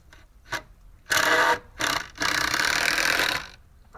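A power drill drives screws into a wooden stair stringer in several loud whirring bursts, one short and two longer, separated by brief pauses with a small tap beforehand.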